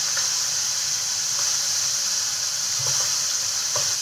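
Namkeen frying in hot oil in a kitchen, a steady loud sizzle with bubbling and a few soft pops and crackles.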